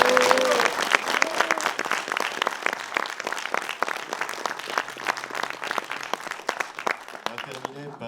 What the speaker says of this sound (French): qu'on applaudisse Étienne Manœuvrier.